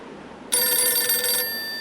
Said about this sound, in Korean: 유선 전화기가 울리더랍니다.